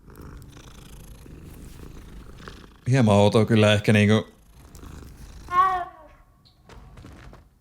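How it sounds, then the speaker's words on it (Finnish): A cat purrs in Hogwarts Legacy, swelling into a loud, close rumble for about a second midway, with a softer trill after it and quiet talk before and after. "Kissa."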